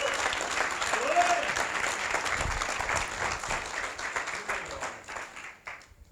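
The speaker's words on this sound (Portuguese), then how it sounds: "vamos erguer nossa mão, aplaudir o Senhor" A church congregation claps together in sustained applause through a worship service, steady and full at first before gradually thinning and fading toward the end, with voices mixed faintly into the crowd noise.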